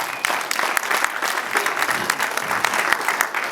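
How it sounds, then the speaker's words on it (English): Audience applause at the premiere of the film Naked Zombie Girl, a dense, steady burst of many hands clapping close by for several seconds. "Big round of applause."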